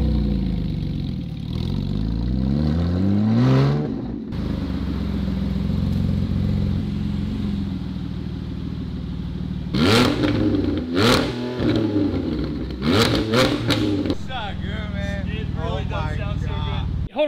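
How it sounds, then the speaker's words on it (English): A Porsche 718 Cayman GT4 engine running with an open header revs in rising sweeps near by, then settles into a rougher drone as people talk over it. "this is the last time we're ever gonna hear this Porsche with open header."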